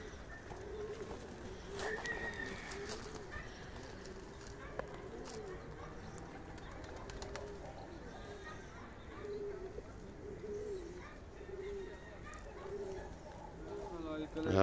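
Pigeons coo repeatedly in a loft in Cullera, soft rhythmic calls rising and falling through the whole stretch, with people talking nearby over them and a faint clatter at the end.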